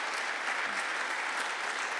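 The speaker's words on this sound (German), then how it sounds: "Wir heißen auch dich ganz herzlich mit einem Applaus willkommen." Audience applause at an evening get-to-know-you gathering of a church community in Cologne, welcoming a newcomer; steady, dense clapping from a crowd at moderate level, continuous throughout with no voices.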